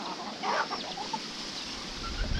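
Roosters call in a mountain village in northern Vietnam, a faint brief crow rising out of the distance against a soft outdoor hush.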